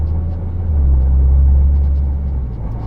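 Low engine rumble from a Nissan GT-R R35 in slow traffic, swelling and easing as its dual-clutch transmission shifts, steady and close with no talk.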